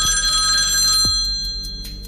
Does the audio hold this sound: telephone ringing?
yes